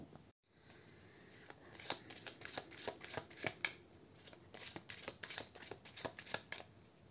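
Tarot de Marseille cards shuffled by hand for a reading, close and fairly quiet, with a rapid run of crisp riffling flicks and slaps after a brief pause.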